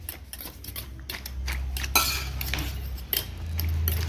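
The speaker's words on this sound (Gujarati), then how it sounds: "અક્ષા જેવા દૂધ ને અને બિસ્કિટ ને બે મિક્સ કરશે ધીરે ધીરે" A spoon stirring milk and crushed biscuits for a cake scrapes and clinks steadily against a bowl, close and continuous over a low background hum.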